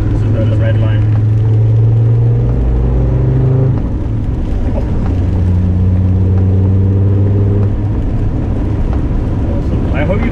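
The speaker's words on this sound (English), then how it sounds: "You can actually hear all the engine noise over this rain because it's coming down hard right now." A Land Rover Defender Td5 engine hums steadily with its pitch shifting around 4,500 rpm, under a constant heavy wash of rain; a voice talks over it.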